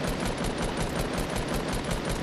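Rapid, continuous automatic gunfire from a video game firefight rattles loud and close, its shots evenly spaced with no pauses.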